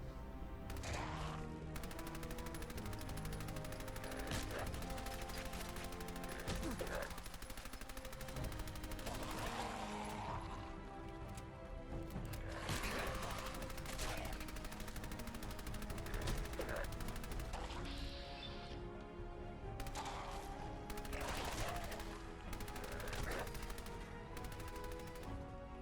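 Rapid bursts of SMG fire in the video game Fallout 4, repeated sharp crackling volleys spread across the stretch, fairly quiet overall with no talk over them.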